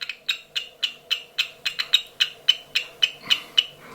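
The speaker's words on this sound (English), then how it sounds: "It will make a sort of chirping type noise." A buzzer added to a K2 EMF meter chirps as it is held near a phone, sounding a steady, evenly spaced run of about fifteen short, high, bright pulses that stands alone and close.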